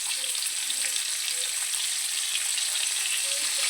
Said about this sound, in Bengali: এই যে আমার মাছ ভাজা হয়ে গেছে